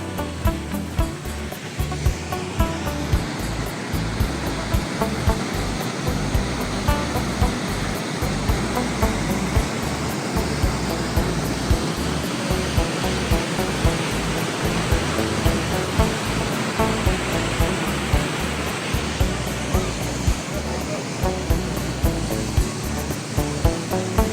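Water rushes continuously through Lynn Canyon near Vancouver, a loud, steady roar of flowing and splashing stream water that holds constant for over twenty seconds with no voices.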